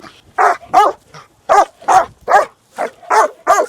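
A family guard dog named Olympus barks loudly and close, about nine sharp, evenly spaced barks in quick succession with brief pauses between them.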